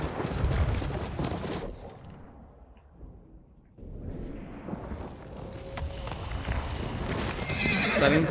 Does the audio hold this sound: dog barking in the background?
no